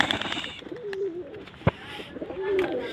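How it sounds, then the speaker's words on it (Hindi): Lal Dum pigeons kept by a hobbyist, cooing in soft rising calls close by, with a sharp tap and light rustling between coos and a faint voice in the background. "ये देखिए नर, क्वालिटी दार कबूतर हैं।"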